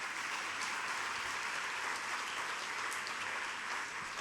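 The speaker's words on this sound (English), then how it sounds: "If we can have a round of applause for them," Steady, dense applause from a crowd at a hospital anniversary celebration in Fiji, continuous and fairly loud throughout with no talking.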